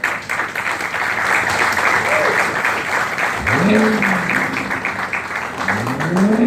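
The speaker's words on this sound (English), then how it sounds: "please give them a round of applause" Sustained applause from a crowd at the first public appearance of the 2020 Corvette Stingray C8 fills the clip, steady and fairly loud, with a voice briefly heard beneath it.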